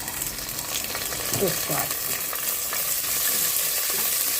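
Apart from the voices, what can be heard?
onions, green chillies and curry leaves frying in tempering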